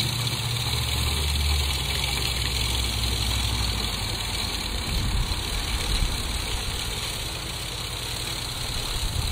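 The engine of a fertilizer spreader idles in a steady, constant drone with a rough mechanical hum, close and continuous throughout, with no voices.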